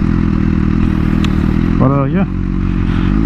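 A BMW S1000RR motorcycle with a worn clutch runs at a steady, loud idle throughout as the rider tries to shift into neutral, with someone briefly speaking near the end.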